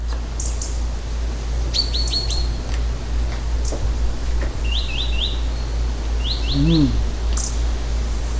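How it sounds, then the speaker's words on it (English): Birds chirp in short, bright bursts of quick repeated notes, scattered across a steady low hum, moderately close, with no talking. "No talking, birds chirping."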